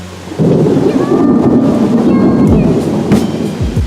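Thunder rolls loud and close during a storm, a deep sustained rumble with crackling edges that swells and lingers for several seconds with no talking.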